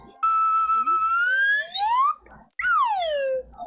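A whistle with a chipped end gives a high, sliding pitch that rises and bends across two long blasts with a short gap between them, loud and close.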